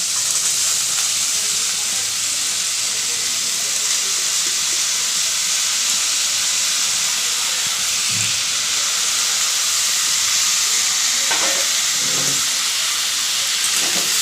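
Potatoes and onion stalks fry in a pan with a steady, loud hiss and sizzle that runs unbroken throughout, with a few faint knocks near the end.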